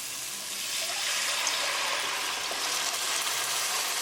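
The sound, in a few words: adding pre-cooked red kidney beans with liquid to the pan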